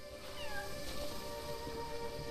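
A house cat meows several times, drawn-out and wavering, fairly close over a quiet room with low background hum.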